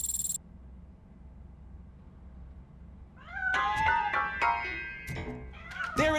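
A cat meows repeatedly in the video game Robocop Rogue City, a series of clear, fairly close mewing calls starting a few seconds in after a quiet stretch.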